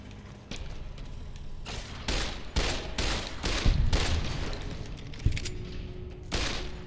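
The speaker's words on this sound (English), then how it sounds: "Firing weapons." Gunfire in Fallout New Vegas: repeated bursts of shots, close and loud, coming in irregular clusters with short gaps between volleys.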